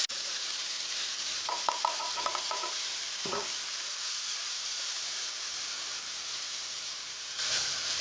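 Continuous hissing sizzle of ground spice paste frying in a pan, with a brief flurry of clinks and a scrape of stirring early on, nearby.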